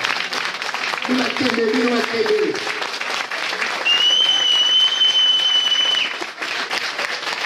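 A concert audience gives sustained applause, dense continuous clapping that fills the whole stretch, with a brief vocal sound and a whistle-like tone riding over it before it tapers off near the end.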